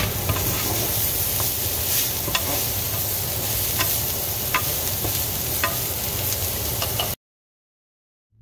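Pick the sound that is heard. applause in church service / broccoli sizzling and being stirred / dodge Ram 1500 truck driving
broccoli sizzling and being stirred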